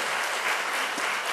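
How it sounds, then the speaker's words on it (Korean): Congregation applause at a church worship service after a hymn, a brief burst of dense, even clapping from many hands, steady and fairly loud across the whole moment. "박수"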